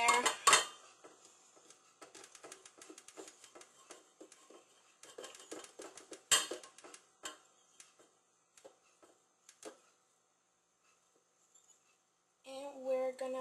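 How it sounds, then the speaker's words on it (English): Whisk clinking against a bowl while mixing cooled melted white chocolate into cream cheese buttercream: light, quick metallic taps in bursts, near and fairly soft, with quiet pauses between. "we're gonna whisk more with the melted chocolate"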